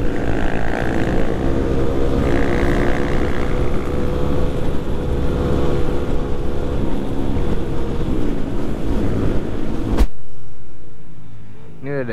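Loud, continuous engine roar from supermoto motorcycles with racing exhausts riding along together, with steady rumbling exhaust and wind rush, cutting off abruptly near the end.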